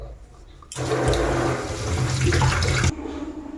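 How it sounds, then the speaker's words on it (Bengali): Potatoes and cauliflower pieces rinsed under a strong running tap: a loud gush of water starts abruptly, pours steadily for about two seconds, then cuts off, with no talking. "তো এই যে দেখো আলু ফুলকপিগুলো ধুয়ে নিলাম"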